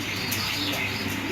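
A pair of Danish pigeons coo softly and close by at a pigeon farm, with a low, continuous murmuring call and faint background chirps.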